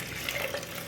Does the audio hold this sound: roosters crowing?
no